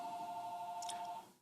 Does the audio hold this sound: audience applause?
no